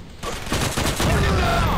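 Gunfire from the Android shooter Real Counter Terrorist Strike: a rapid fusillade of shots starting after a brief quiet moment and continuing loud and dense to the end, with game sounds layered underneath.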